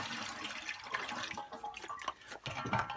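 Water runs and splashes into a rusty metal fuel tank, a close, steady gurgling pour with irregular sloshes and drips, and no talk over it.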